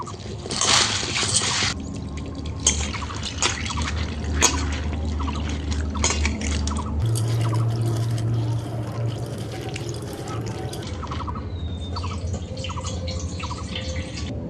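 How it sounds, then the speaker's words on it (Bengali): Split chickpeas (chana dal) are rinsed in a bowl of water, making close, continuous splashing, trickling and dripping with no voices. "ডালটাকে এখন জল দিয়ে ভালো মতো দু তিনবার ধুয়ে নিতে হবে"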